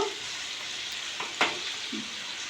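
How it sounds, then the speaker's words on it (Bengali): Spinach sizzles in a hot pan, a faint steady frying hiss with a couple of brief stirring scrapes. "ঘন্ট রান্না করার জন্য সব থেকেও ইম্পর্টেন্ট উপকরণ দিয়ে দিচ্ছি পালং শাক"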